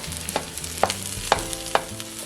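Oil fries rice in a hot pan, a crackling sizzle broken by several regular scraping strokes of a utensil, close and fairly loud with a low hum beneath.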